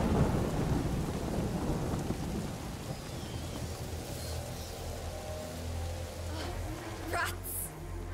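A thunderstorm in A Plague Tale: Innocence: heavy steady rain hisses over a deep rolling rumble of thunder, with a sharp lightning crack near the end.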